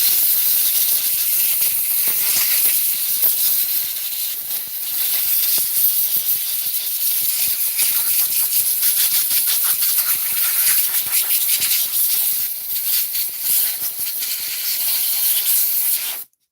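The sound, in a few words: quiet air compressor running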